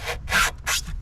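An oil filter strap wrench gripping and turning the oil filter on a VW Polo 1.2 TSI: three short, close rubbing and scraping strokes in quick succession, no talking.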